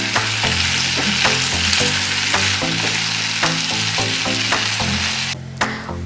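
Skillet breakfast potatoes frying in a covered pan, a steady loud sizzle with occasional clinks and stirring taps throughout, no talking.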